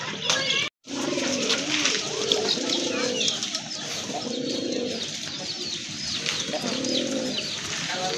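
Pigeons at a farm coo repeatedly in close, rolling bursts that overlap one another, with faint chirps in the background and a brief dropout near the start.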